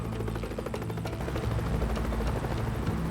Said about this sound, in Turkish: Şu helikopteri de çek tepemden!